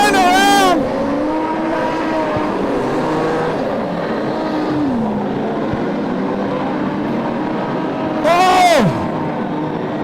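Modified production race cars roar around Lismore Speedway at night, with engines swelling loudly past at the start and again near the end, a steady engine drone in between, and an announcer talking over the action.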